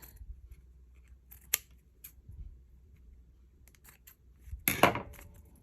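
Scissors snipping through a paper file folder, a few sparse crisp cuts spread out over quiet, ending in a louder, longer crunching cut.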